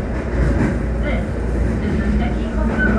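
A JR Hokkaido H100 local train runs on the Sekihoku Line from Asahikawa, with a loud, continuous low rumble and rolling wheel noise, and a voice speaking over it.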